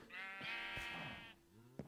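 Sheep bleating in Minecraft on the Agrarian Skies modpack: one long, wavering game-style bleat lasting over a second, loud and close, followed by a short click-like game sound.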